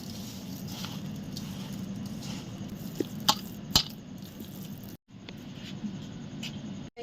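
Fresh chhana (cottage cheese) with sugar is kneaded by hand, giving soft, faint, irregular squishing and pressing sounds over a low background hum, with a few sharper taps.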